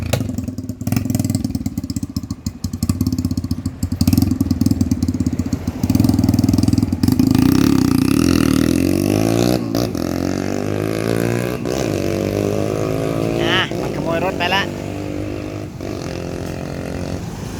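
A motorcycle engine runs loudly nearby, first rumbling low and steady, then revving up through rising pitch sweeps as the bike is ridden off, with the engine note fading slightly toward the end.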